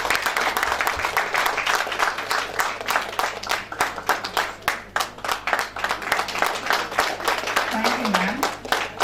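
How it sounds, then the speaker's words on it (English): Audience at a national healthcare management seminar clapping in a steady, moderate round of applause, with a few voices mixed in near the end. "Can we please give them a round of applause?"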